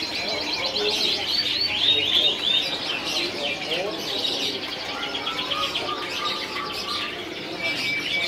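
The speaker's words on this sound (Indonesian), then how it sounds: "Ini zebra fins lokal ya." A busy, steady chorus of zebra finches chirping and twittering together, high and continuous, with occasional soft cooing underneath.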